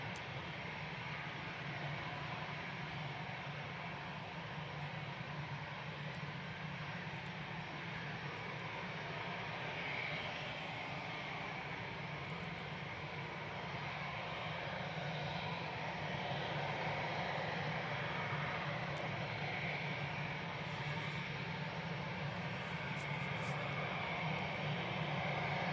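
An Embraer jet comes in to land at Manchester Airport, its engines a steady, broad roar that holds throughout without a break, with faint voices of spotters nearby.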